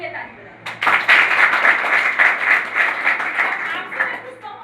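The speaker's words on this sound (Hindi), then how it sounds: "एक बार अपने लिए ताली बजाओ" An audience at a motivational talk breaks into steady, dense applause. It starts abruptly and carries on for several seconds before it tapers off.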